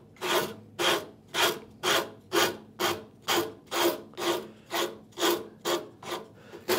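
A wooden saw handle is faired out with a rasp or file in even back-and-forth strokes, about two per second, each a close, dry scraping rasp with brief pauses between.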